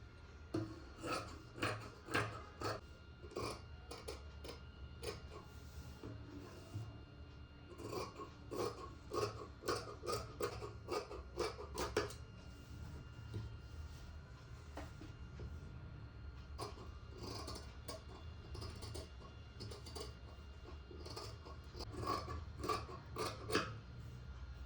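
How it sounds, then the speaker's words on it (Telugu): Scissors snip through cloth while a tailor cuts out garment pieces, a steady run of sharp, close clicks in bursts, pausing briefly midway before resuming, with no talking. "ఇప్పుడు కటింగ్ చేస్తున్నా."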